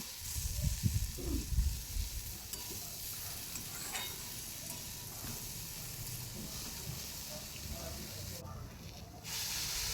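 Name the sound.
frying washed masoor lentils in a pan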